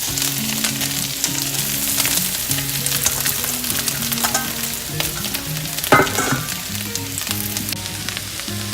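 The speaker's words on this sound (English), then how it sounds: "now I'm going to add my spinach." Spinach sizzles in a pot over medium heat for spinach and feta pies, a loud, steady frying hiss with occasional stirring scrapes and clunks throughout, and no talking.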